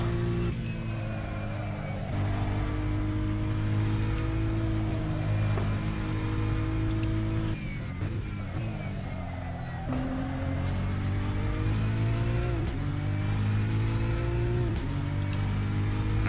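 A Supra GT3 race car engine drones in a racing video game at Fuji Speedway, a loud steady harmonic hum with shifting pitch and brief dips as gears change, continuous with no talk.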